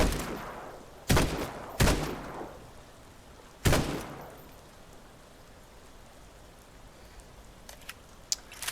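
Gunfire in the video game Quarantine Zone: three sharp, loud shots spaced about a second apart, then quiet with a few faint clicks near the end.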